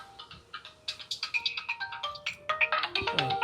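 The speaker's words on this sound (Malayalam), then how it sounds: "ഫോൺ അടിക്കണ്ടല്ലോ ആരാണ് നോക്കട്ടെ" A phone ringtone plays a bright, repeating electronic melody, pulsing rhythmically and growing fuller, heard up close with no talking.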